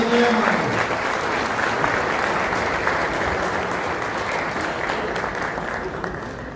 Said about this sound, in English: Let's give a round of applause to our national anthem singers